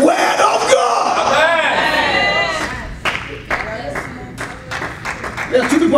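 A small scattering of claps in a church during a preacher's sermon, sharp separate hits in the second half that follow a stretch of loud, excited preaching.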